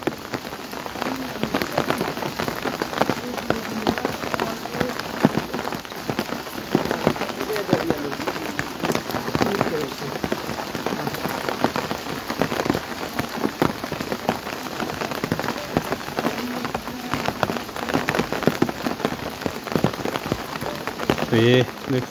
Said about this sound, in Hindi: इस मैदान में झमाझम बारिश पड़ती हुई